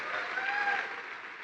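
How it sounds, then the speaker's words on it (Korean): A large seminar audience applauds, giving a smooth continuous wash of clapping that holds steady at moderate level and starts to ease toward the end, with no clear speech on top. "Le pido que dejen de aplaudir porque hay muchas cosas que decir y en aplauso perdemos tanto"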